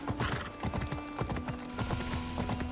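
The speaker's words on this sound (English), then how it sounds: "It's my all-terrain horse." A horse gallops across terrain in the video game Assassin's Creed Odyssey, a fast, dense run of clip-clopping hoofbeats, close and clear, over a steady tonal hum with a brief whinny-like edge.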